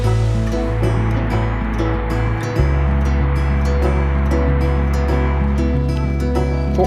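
Waterfall roaring steadily nearby, a broad continuous rush of falling water with no talk, joined by a deeper low hum partway through.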